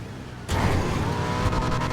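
Fast car racing in GTA Online: after a short quiet lead-in, an engine suddenly roars up and holds loud and close, with a few rattling bumps toward the end.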